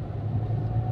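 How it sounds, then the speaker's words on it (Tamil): A car's engine rumbles steadily throughout, a low continuous drone that holds at a constant level with no clear rise or fade. "வண்டி வருதுடா தங்கம்"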